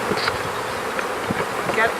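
Honey bees buzz around an opened hive during a brood count field day, a close, steady droning hum with individual bees passing near.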